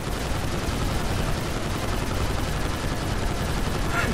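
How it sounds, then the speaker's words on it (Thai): Twin machine guns on a drone in a GTA5 mod fire a sustained, dense stream of rapid shots, loud and close, unbroken for the whole stretch. "นี่ฮะปืนกลสองกระบอกนะครับ"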